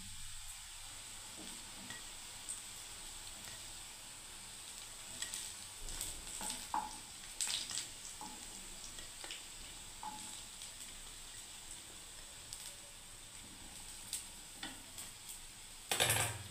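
Grated pointed gourd pakoras fry in hot oil with a quiet, steady sizzle, broken by occasional light clinks and scrapes of a utensil against the pan.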